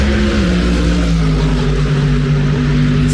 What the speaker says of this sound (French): Ça c'était le bruit d'une 992 GT3 Cup avec la configuration Super Cup,